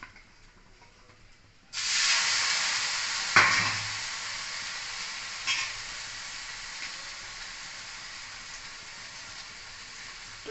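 Milk-soaked bread slices frying in a pan with ghee, a steady sizzle that starts abruptly and continues close and loud, with a couple of brief pops and clatters along the way; no talking.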